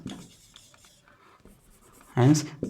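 Chalk or marker scratching on a classroom board during a Class 10 maths lesson on real numbers, brief faint strokes under a teacher's voice, ending in a louder burst of writing.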